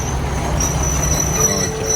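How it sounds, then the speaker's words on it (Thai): A train pulls into the platform at Hua Mak railway station in Thailand, giving a steady close rumble with a thin, high, sustained wheel squeal above it. "ตอนนี้รถไฟก็เข้ามาเทียบชานชลาที่ สถานีรถไฟหัวหมากเลยนะครับผม"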